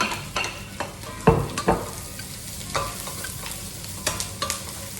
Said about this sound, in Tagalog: So let's saute the onion first.